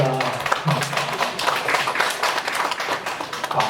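Audience clapping at a Korean sermon, a dense, steady patter of many hands carrying on throughout, close and moderately loud with a few brief louder claps mixed in.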